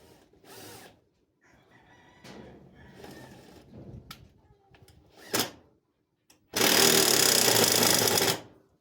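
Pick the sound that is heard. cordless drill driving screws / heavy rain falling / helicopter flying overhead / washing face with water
cordless drill driving screws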